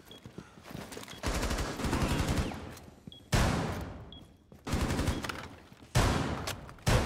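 A 100-round weapon firing in Rainbow Six Siege, with several long sustained bursts of rapid automatic gunfire broken by short pauses, loud and close.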